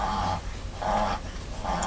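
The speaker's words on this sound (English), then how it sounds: "Excuse my little dog. He's having a moment." A small dog growls low and steadily in rumbling waves close by, with a faint whimpering edge and no talking.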